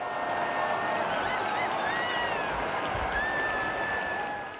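Large crowd of faithful cheering and applauding as Pope Leo rides past in an open-top Popemobile, a dense, steady roar of voices and clapping with rising whistles and shouts throughout, loud and close.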